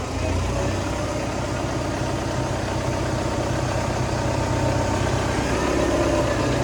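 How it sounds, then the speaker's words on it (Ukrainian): An MTZ tractor engine, just started after the block was heated, idles steadily and loudly, a continuous low rumble and clatter that never changes pace. "Трактор завівся і це є добре."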